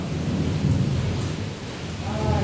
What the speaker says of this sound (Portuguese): é porque a chuva tá virando aqui na área